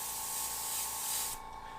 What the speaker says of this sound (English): I'm going to spray really soft in the same pattern I did this in.